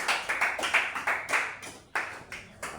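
A church congregation claps in a steady rhythm during a worship service, with sharp repeated hand claps close by and only brief gaps between them.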